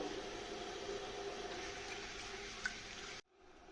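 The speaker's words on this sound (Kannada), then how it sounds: "ಈಗ ನೋಡಿ ನೀರು ಚೆನ್ನಾಗಿ ಬಾಯ್ಲ್ ಆಗ್ತಾ ಇದೆ." Water boiling inside an Agaro Multi Cook electric kettle gives a steady, close, rushing bubbling hiss that holds evenly for about three seconds before cutting off abruptly.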